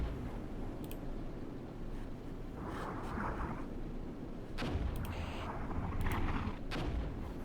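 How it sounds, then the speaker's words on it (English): Distant mortar and artillery fire in the Armored Brigade battle for Grozny, faint muffled thuds and scattered crumps over a steady low rumble, several impacts spaced irregularly. "Yeah, a lot of indirect fire over here."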